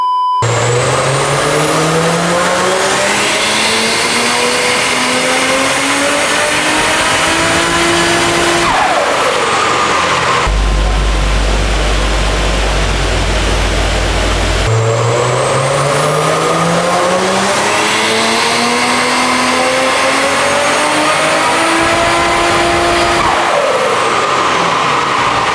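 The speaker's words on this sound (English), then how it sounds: "It's also slipping a load on the dyno, so we're not actually getting power readings because the wheels are just spinning" A tuned turbocharged car on a dyno revs hard in two long rising pulls, wheels spinning and slipping, loud and close, with a deep rumbling drop between the runs and no talk.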